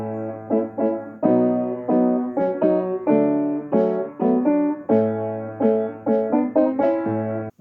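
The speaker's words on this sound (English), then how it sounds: "This is how the piano part goes." Solo piano from a song, played as a rhythmic chordal figure with a steady sustained bass note and repeated, evenly spaced chord stabs, close and clear with no other instruments or voices.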